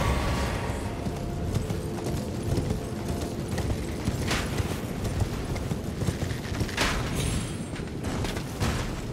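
Rhythmic clip-clop of horse hooves in Elden Ring, steady and moderately quiet, with occasional sharper clicks.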